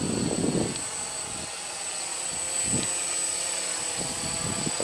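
A Flying 3D X8 six-axis GPS RC quadcopter hovers nearby with a steady high-pitched rotor whine, while low gusts of wind rumble underneath.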